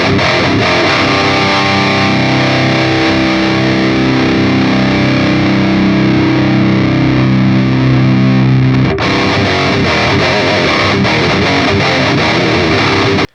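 Electric guitar through a Line 6 POD Express pedal with distortion, loud sustained crunchy chords that ring for several seconds before a sharp shift to choppier strumming.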